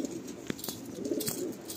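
Madrasi pigeon cooing at close range, a low murmuring coo swelling and fading over less than two seconds, with a few soft clicks and rustles around it and no voices.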